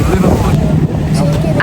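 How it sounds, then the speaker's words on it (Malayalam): Strong, cold wind buffets the microphone on a boat cruise across a lake in the Lake District, a loud, continuous rush with a faint voice beneath it. "നല്ല കാറ്റുണ്ട്"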